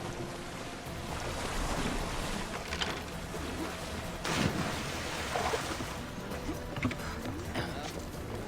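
A sailing ship in Assassin's Creed Odyssey ploughs across the open sea, with a steady wash of waves and wind rushing around the hull at moderate volume, and faint talk mixed underneath.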